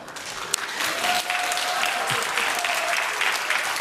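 A church congregation at Bundang Woori Church breaks into applause during a sermon, a steady, full clapping that starts after a sharp knock and carries on evenly at close range.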